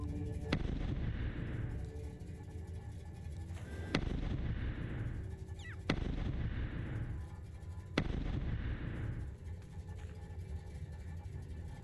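Video game gunfire in Hullrot SS14 as four sharp, heavy shots ring out at roughly two-second intervals, each followed by a long rumbling decay, fairly loud over a low background.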